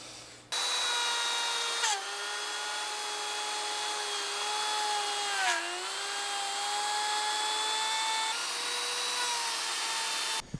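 A power router cuts a channel for an LED lighting strip in the underside of a wooden piece for an outdoor pizza oven kitchen, giving a loud, continuous high whine that dips in pitch briefly whenever the bit bites under load.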